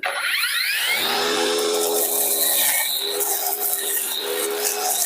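A loud, steady whine of an ONSEN cordless grass trimmer with a new blade cutting grass continuously up close, with a rising spin-up at the start and a constant buzzing hum throughout.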